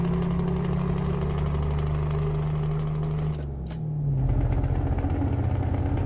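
A Scania S730 V8 truck in Euro Truck Simulator 2 rumbles with a loud, deep engine drone, dips through a gear change around the middle, then climbs back to a throaty roar with a whining tone on top.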